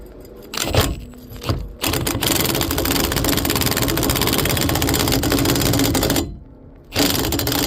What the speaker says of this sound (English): Hit it with the impact.